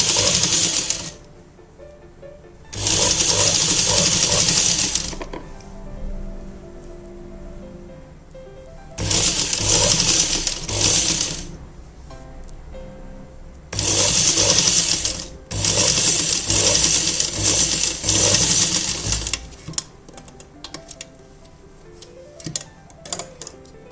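Sewing machine stitching piping onto a sleeveless kurti, running in three or four loud sustained bursts of rapid mechanical chatter separated by quieter pauses with faint handling noise.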